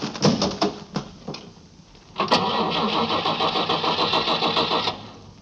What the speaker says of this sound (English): Get in and push the starter again.